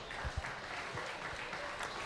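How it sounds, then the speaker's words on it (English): At a state fair beef show, an audience gives a short round of applause for sponsors, a brief, moderately loud burst of mixed clapping with a few distinct low thumps. "Let's give them a round of applause for their continued support."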